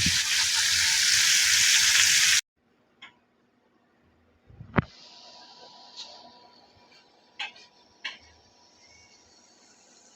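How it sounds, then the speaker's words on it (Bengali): Potatoes and pointed gourd fry in oil with a loud, dense sizzle for a couple of seconds, then cut to near quiet broken by scattered clicks and taps of stirring. "তেল দিয়ে প্রথমে আলু আর পটল ভালো করে আমি ভাজে দিব"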